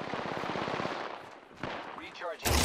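Rapid automatic gunfire in Apex Legends, a fast regular burst of shots followed by a short gap, a few scattered game effects and then a loud blast at the end, with a voice briefly heard among them.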